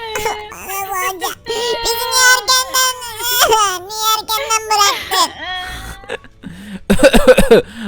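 A baby crying in a Minecraft game, with high wavering wails and whimpers that come in repeated bursts, loud and close, ending in a rougher sobbing outburst.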